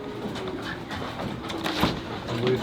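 Racing pigeons coo softly inside a loft, low murmuring calls under steady background noise and nearby conversation.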